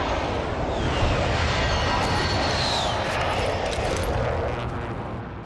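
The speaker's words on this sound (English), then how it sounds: "Call for fire. Target's marked. This is Striker 3-1, good copy. Strike inbound." An airstrike rumbles in a battle royale shooter game, with a jet sweeping overhead and continuous deep, loud explosive roaring that fades slightly at the end.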